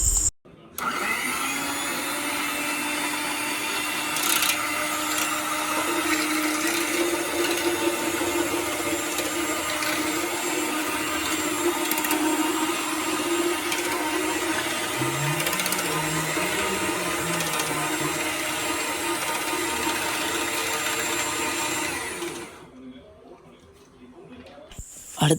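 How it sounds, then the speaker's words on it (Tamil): Five eggs beaten and mixed for a cake by an electric mixer or blender, a steady loud whirring drone lasting about twenty-two seconds before stopping abruptly. "முட்டையை அடித்து போட்டு 5 முட்டை போட்டிருக்கி. 5 முட்டையும் நல்லா கலக்கணும்."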